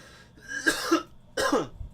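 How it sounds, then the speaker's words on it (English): Two separate coughs, about a second apart, close and fairly loud, heard in a relaxed indoor chat setting with no talking over them. "Cough"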